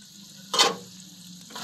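Goat stomach (matumbo) dry-frying in a pan after the liquid has cooked off: a quiet, steady sizzle with a brief louder scrape of stirring near the start and another toward the end.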